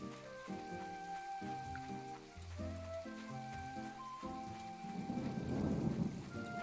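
Steady rain patters under tonal game music in My Time at Portia, swelling into a louder wash of rainfall toward the end.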